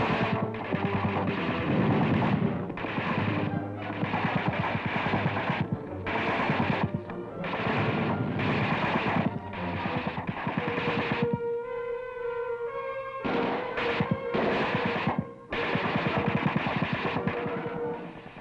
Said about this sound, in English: the troops move on to the next, under protective fire cover during their house-to-house search of the mock city